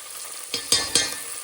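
Tempering for kadhi crackles in a hot pan: three quick sizzling bursts flare up and fade over a low, steady frying hiss, close and without any talk.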